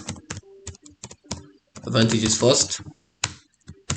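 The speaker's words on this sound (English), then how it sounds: "we're doing a lot of typing together" Typing on a computer keyboard while working through an ICT mail merge exercise: bursts of sharp, close key clicks in an uneven rhythm, paused while a person speaks briefly, then resuming.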